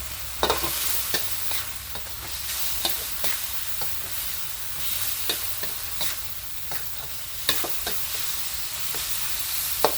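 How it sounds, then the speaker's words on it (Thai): Tomatoes stir-fry in oil for a chicken chili-paste stir-fry. A steady sizzle runs throughout, broken by repeated sharp scrapes and clacks of a spatula against the pan at an uneven rhythm. "มะเขือเทศนี้ ถ้าผัดมีส่วนผสมของมะเขือเทศต้องให้โดนน้ำมันนะคะ"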